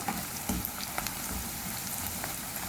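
Green and red chillies frying in hot oil give a dense, even crackling sizzle with a few faint pops, steady and close throughout.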